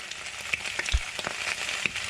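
Steady close sizzling and crackling of bacon and sausages frying in a pan, with small pops scattered throughout and no talking.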